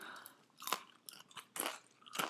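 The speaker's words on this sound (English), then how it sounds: "I'm hearing the crunch." Crisp crunching bites and chewing of air-fried and oven-baked french fries, close to the mic, in three or four distinct bursts with quiet gaps between.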